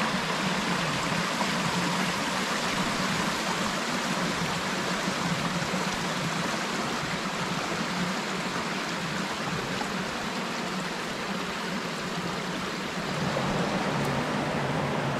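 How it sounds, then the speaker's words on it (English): Creek water gushing down a wooded hillside beside a trail at Raven Rock, a loud, steady, unbroken rush that holds constant throughout. "The water is still gushing like mad down the hill"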